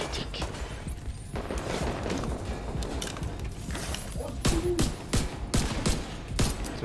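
Video game gunfire rattles in bursts of rapid shots and single cracks, mixed with people talking over the action.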